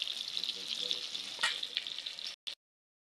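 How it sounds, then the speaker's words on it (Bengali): Chopped tomatoes hit hot oil seasoned with a cumin tempering and fry in a pan for a Bengali-style Poya fish curry, a steady close sizzle with a brief flare midway that cuts off abruptly near the end. "কেটে রাখা টমেটো দিয়ে দিচ্ছি প্রথমে।"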